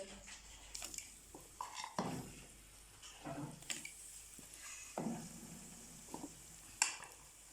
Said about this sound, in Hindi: इसी ऑयल में हम अपने फ्राई तैयार कर लेंगे